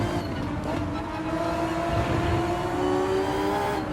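Race car engines in the Le Mans 24 Hours video game drone steadily as one car overtakes another, a loud continuous whine with rising and shifting pitch.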